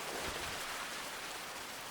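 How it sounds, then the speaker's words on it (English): Rain falls outside near a temple in a steady, soft hiss of drops, even and unbroken throughout. "Beneath the pitter-patter of the falling rain"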